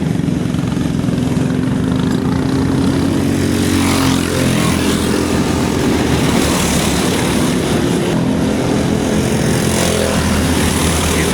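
Racing kart engines with stock mufflers howl at a kart track race, a loud continuous droning buzz of several engines that rises and falls as they pass.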